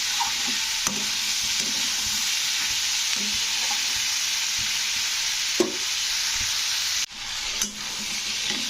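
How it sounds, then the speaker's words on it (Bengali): Pumpkin pieces fry in a pan with salt while a spoon stirs them, giving a steady sizzle throughout and soft scraping clicks from the stirring. "তো লবণটা দিয়ে একটু নাড়াচাড়া করে নিতে হবে।"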